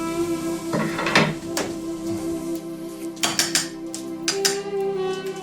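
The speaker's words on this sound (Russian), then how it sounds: "Включаем плиту. Небольшой сотейник, либо не очень глубокая сковородочка." A small saucepan or shallow frying pan is set down on a stove in a home kitchen, giving several close metallic clanks and knocks in a quick, irregular cluster.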